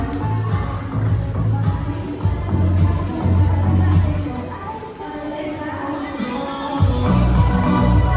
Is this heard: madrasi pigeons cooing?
no